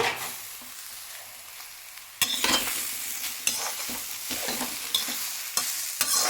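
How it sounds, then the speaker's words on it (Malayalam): Grated coconut roasts in a pan for chammanthi powder, quiet at first, then a spatula scrapes and stirs repeatedly with sharp knocks against the pan over a soft sizzle. "ഇനി നമ്മൾ ആ ചീനിച്ചയിൽ തന്നെ തേങ്ങ ഇട്ട് വറുത്ത് കൊടുക്കുകയാണ്"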